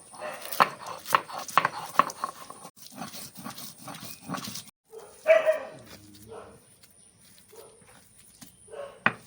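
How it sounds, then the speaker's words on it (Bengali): Tender stalk leaves, with fried dried chilli, chopped onion and nigella seeds, ground on a stone slab in a Bengali village kitchen: close, rhythmic scraping and crushing strokes repeating in bursts, with brief pauses between. "এবার ডাটা পাতাগুলো নিয়ে নিচ্ছি এবার ভালো করে বেটে নেব"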